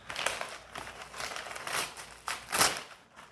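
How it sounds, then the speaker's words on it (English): Soft crinkling and rustling as plant packaging is unwrapped, in short irregular bursts, close up and fairly quiet. "I'm trying to be really careful unwrapping everything"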